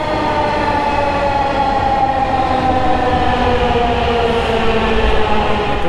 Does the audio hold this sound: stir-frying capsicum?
no